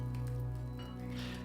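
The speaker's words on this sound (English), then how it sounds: "That is the sound of an alchemist's lab, an immersive soundscape by Tabletone Audio." Alchemist's lab ambient soundscape for tabletop role-playing: a faint, steady bed of low hum with soft bubbling, sizzling hiss, brief and quiet, no talk.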